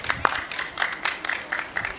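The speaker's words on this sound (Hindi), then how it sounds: "तालियां बजा दो भाई बच्ची के लिए।" Audience clapping for a young girl, a light scattered patter of hands at moderate distance, fairly faint and irregular.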